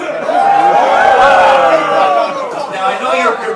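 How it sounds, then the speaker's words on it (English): A large audience at a Liberty Fest event in New York boos loudly and steadily, a sustained wall of low, drawn-out jeering voices from many people at once. "Now I know you're booing and you're not saying Krugman"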